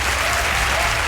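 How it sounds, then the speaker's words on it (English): Applause ringing out at the end of a Democratic presidential debate in Iowa: continuous, full clapping from a large audience, steady and close throughout. "With applause still ringing at the end of the Democratic debate in Iowa last night"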